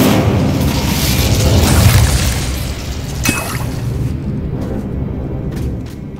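An Incendio fire spell bursts in Hogwarts Legacy with a loud roaring blast that swells and fades, followed by a sharp crack and a quieter lingering rumble.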